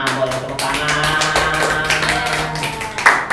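Audience clapping at a quiz show game, a dense steady patter of hands filling the room, loud and continuous with some mixed sounds throughout.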